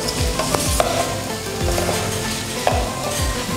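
Onions sautéing in a pan for kale chana chaat, a strong steady sizzle close up, with occasional spoon scrapes and light taps against the pan.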